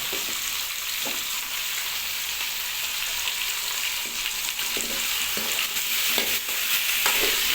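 Chicken sautéing in a hot pan gives a loud, continuous hissing sizzle, broken by a few soft knocks and scrapes as it is stirred, close up and steady throughout, with no talk.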